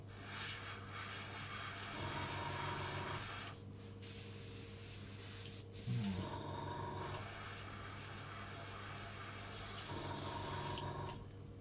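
An airbrush sprays paint onto a scale model, a faint, continuous hiss that pauses briefly a few times and then resumes, close by with no voices.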